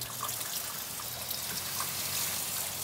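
A machine draws standing water off a waterlogged football pitch, producing a steady close hiss and gurgling trickle with a low engine hum beneath, continuous throughout.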